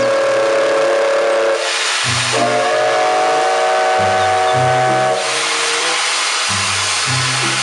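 Toy Thomas train plays a loud, close steam whistle in repeated hissy toots over a steady electronic chugging rhythm, with short tonal notes pulsing underneath throughout.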